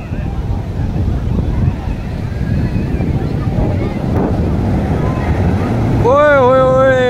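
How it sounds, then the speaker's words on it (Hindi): Sea waves and gusting wind at Hawksbay beach, a broad rushing roar with buffeting wind on the microphone, and a shouting voice rising near the end. "क्या लहरें आई है"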